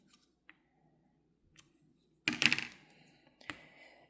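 A few faint clicks are followed by a brief, sharper snip of scissors cutting a crochet yarn tail, with another small click after it, in a quiet room.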